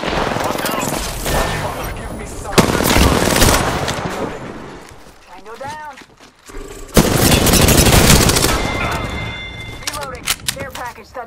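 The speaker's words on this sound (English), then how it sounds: "I'm getting shot." Heavy gunfire in the battle royale shooter Apex Legends: sustained automatic bursts and rattling volleys, close and loud, with a brief lull midway before fire resumes, and game voice lines over it.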